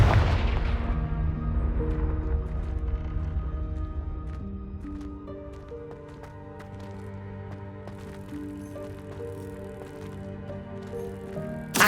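A Confringo fire spell in Hogwarts Legacy bursts at the start with a heavy booming blast that fades over a couple of seconds, followed by ringing musical tones.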